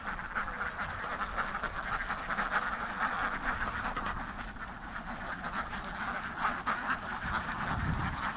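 A large flock of ducks quacks continuously nearby in Karuvatta, Kerala, with many overlapping calls forming a busy, noisy chorus.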